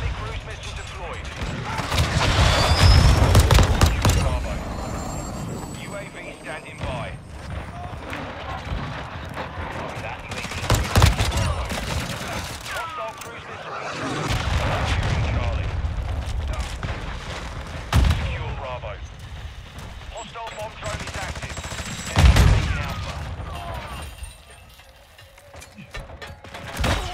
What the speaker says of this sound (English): Friendly cruise missile deployed.